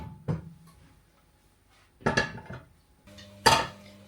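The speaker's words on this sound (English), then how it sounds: "I'm going to get the pans out for the burgers" Metal pans for burgers are pulled from a kitchen cupboard in three separate clattering bursts, with bangs and scrapes close by and short quiet gaps between them.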